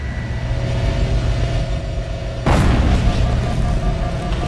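A pulse generator blows up in Halo CE: a low rumbling drone gives way to a sudden loud booming burst halfway through that keeps rumbling to the end.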